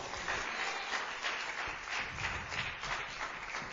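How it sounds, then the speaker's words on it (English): A church congregation claps together in a dense, continuous patter of hands, fairly distant and even in loudness for a few seconds. "Let's give the Lord a hand clap."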